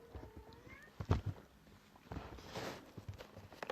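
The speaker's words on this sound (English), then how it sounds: "I had to pause it because my cat was meowing for me" A pet cat meowing indoors, a short faint call or two close by amid light rustling and movement noise, with no talking.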